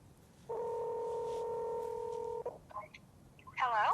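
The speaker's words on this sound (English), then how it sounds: "Next, I'm going to show you how to make a phone call." A phone call placed on a Humane AI Pin starts with a steady two-tone dialing beep held for about two seconds. Brief chirps follow, then a voice speaks.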